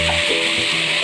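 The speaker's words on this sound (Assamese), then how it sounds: "নিমখ হালধি জিৰাৰ গুড়ি ধনিয়াৰ গুড়ি গোটেইখিনি দিলোঁ আৰু ভালকৈ ভাজিব ধৰিছোঁ" Salt, turmeric, cumin and coriander powder fry in a pan for a fish curry with bottle gourd, giving a steady close sizzle with faint scraping of stirring and no talk.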